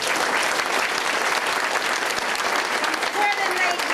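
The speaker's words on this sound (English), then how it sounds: "Give it a round of applause." A crowd at the 2001 swearing-in ceremony of an Alameda County supervisor bursts into a brief, full round of applause, dense and close, with a faint voice near the end.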